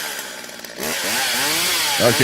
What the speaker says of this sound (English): fire up that chainsaw